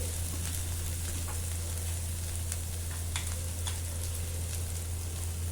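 Cluster beans (gorichikkudu) fry in a pan with a dense, continuous sizzle, steady and fairly loud throughout, broken by a few faint crackles and light stirring ticks under a constant low hum.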